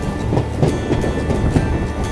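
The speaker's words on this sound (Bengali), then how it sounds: "ট্রেনটা এখানে কার্ভ নিচ্ছে" Train wheels rumble and clatter along the track as the train takes a curve on the Jaynagar to Janakpur Dham line, with rhythmic clicks and faint squeals over a loud steady roar, heard from on board.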